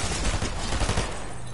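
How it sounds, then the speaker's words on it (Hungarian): Fortnite video game gunfire, a rapid burst of overlapping shots in quick succession, loud and close, heard alone without talk. "ettől a lövés hangtól folyamatosan tök kikészül"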